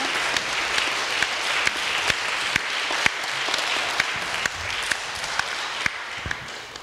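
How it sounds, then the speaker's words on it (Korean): Sustained audience applause at a retrospective exhibition discussion event, a dense steady wash of many clapping hands with a few sharper individual claps, moderately loud and continuous throughout. "우리 박수 한번 주시죠"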